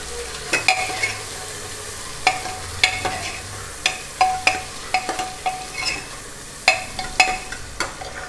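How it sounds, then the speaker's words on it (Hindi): Potatoes stir-frying in a pan with onion and garlic for a namkeen rice dish, a steady low sizzle broken by frequent sharp scrapes and clinks of a spoon stirring, close and alone without talk. "आलू को भी थोड़े से फ्राई कर लेंगे।"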